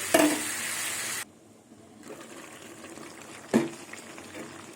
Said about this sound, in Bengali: এবার ঢেকে দেবো ঢেকে ঢেকে এবার কষিয়ে নেব